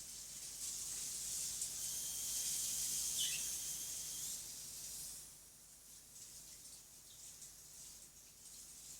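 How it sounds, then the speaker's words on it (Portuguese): Tap water running steadily while hands are washed during slime making, a quiet continuous hiss that eases slightly partway through. "Se vocês ouvirem o barulho de torneira é por causa que eu estou a levar as mãos"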